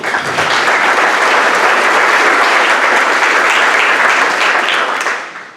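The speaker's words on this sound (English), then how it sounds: "So let's give a quick round of applause for Vicki." An audience applauds at a university service citation awards ceremony: a dense, steady burst of clapping from many hands that holds for about five seconds, then quickly fades out. There is no talk over it.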